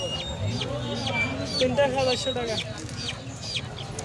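Chickens and ducks for sale at a village market in Mollarhat, clucking and squawking close by under steady talk from people nearby.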